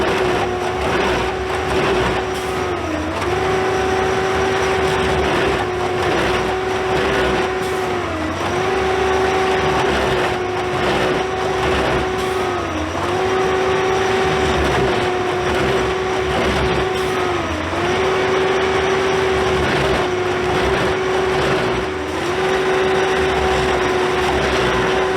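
A Klamath Northern Railway ballast train, freshly loaded with ballast near Gilchrist, rumbles past close by. It makes a loud, steady roll of wagons with a sustained metallic wheel squeal that dips in pitch every few seconds.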